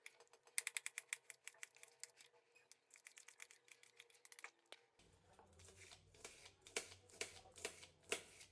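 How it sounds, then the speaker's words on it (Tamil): A knife slices onions into thin long strips on a cutting board, producing a fast series of crisp, close chopping taps that grow denser and rougher toward the end. "வெங்காயத்தை இந்தமாரி நீட்டாக கட் பண்ணிங்க"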